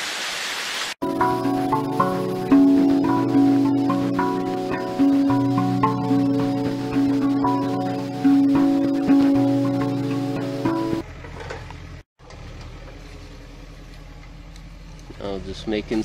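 A working excavator on a hillside fruit farm in Ecuador, cutting contour lines for planting, runs with a steady mid-range engine drone and rhythmic hydraulic surges for about ten seconds, then drops away to quieter outdoor ambience.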